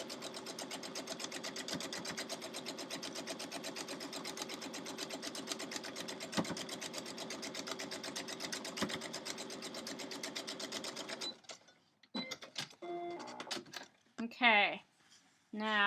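A sewing machine stitches pieces of a quilt star block together with a steady, rapid mechanical chatter for about eleven seconds, then stops. A voice talks briefly in the quieter moments at the end.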